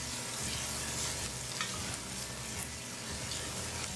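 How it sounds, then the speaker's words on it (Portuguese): Diced bacon and chopped onion fry steadily in a pan for a party egg farofa, a dense continuous sizzle with occasional soft crackles, close and alone with no talk. "frite 100 gramas de bacon cortado em cubos, 1 quarto de xícara de chá de cebola picada"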